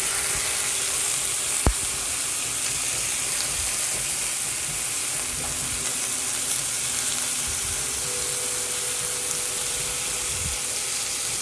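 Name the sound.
beef sizzling as it browns in a pan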